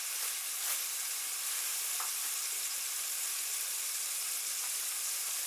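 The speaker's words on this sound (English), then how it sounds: "I flip them real often, because I want them to evenly cook throughout both sides." Steak sears in a hot pan with a loud, continuous hissing sizzle that stays dense and steady throughout, with a few faint clicks from flipping.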